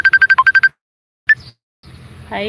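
A phone ringtone chirps in a quick run of repeated electronic beeps, stops, then a brief blip follows before background noise and a rising voice-like sound.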